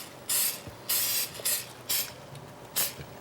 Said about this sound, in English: Now what we want to do is just give it a very light spray.